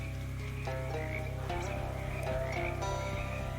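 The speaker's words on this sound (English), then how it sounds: "all of you frogs are just ordinary frogs now, right? Right? Just ribbits." Frogs croak in the video game Shadows Over Loathing, repeated ribbits over a steady low musical drone and background game ambience, with no talking.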